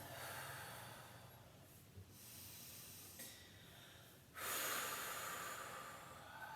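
Slow ujjayi breathing during a yoga session, a soft throaty hiss of inhales and exhales close to the mic, with a louder, fuller breath near the end and no talking.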